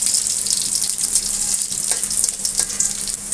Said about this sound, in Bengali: এখন আমি রসুন কুচি দিয়ে দিলাম। রসুনগুলি আমি একটু ব্রাউন করে ভেজে নেব।